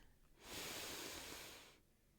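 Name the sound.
deep breath in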